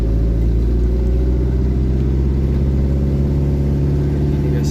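Mazda Capella 626 diesel engine on a test drive, a loud, steady low drone with a throbbing diesel rumble that holds constant throughout, heard from inside the car.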